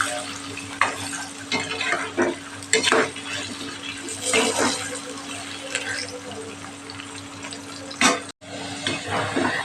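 Potatoes frying in oil in a pan for a dry Kathiyawadi cauliflower-potato curry make a continuous loud sizzle, with repeated scraping and clinking as the pieces are stirred.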